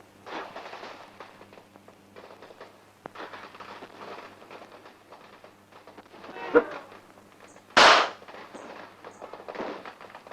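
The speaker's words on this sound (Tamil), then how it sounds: "வெடிச்சது வேற பட்டாசு, நீங்க வச்சது அப்படியே இருக்கு" A firecracker bursts with one sharp, loud crack amid a quiet outdoor scene, preceded by a smaller pop and faint background chatter from a few people.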